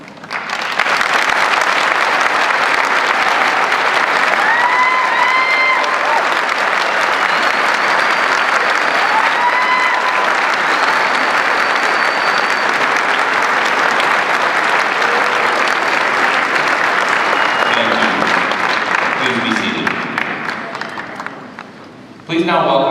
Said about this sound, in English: Will our students and faculty please rise to accept a round of applause for celebrating this milestone?